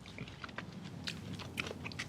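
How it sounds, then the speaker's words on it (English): Someone chews loudly in a courtroom scene of the Better Call Saul drama: a steady run of wet, crunchy bites and mouth clicks, close and continuous over a low background hum, with no speech. "Stop chewing loudly"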